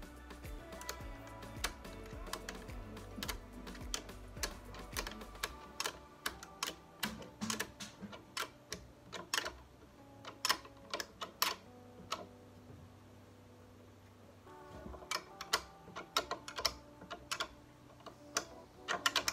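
A nut is tightened with a 13 mm box-end wrench while fitting a post on a staircase, giving repeated sharp metallic clicks and ticks in irregular bursts over a low background hum.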